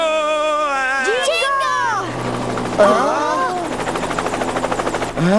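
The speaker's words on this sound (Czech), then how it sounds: "Ta helikoptéra." A helicopter flies in an animated Beyblade series, its rotor building into a rhythmic, pulsing chop toward the end. Excited cartoon voices talk over it.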